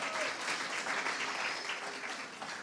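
An audience at a Mitzvah Day awards event in the Jewish Museum London applauds and cheers steadily as a broad, even wash of clapping that holds at a similar level throughout.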